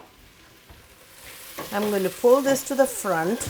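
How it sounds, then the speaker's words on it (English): Food fries in a pan on a home stove with cilantro nearby, a low steady sizzle under a voice as she talks while cooking. "you hear the sizzle as well as the color change"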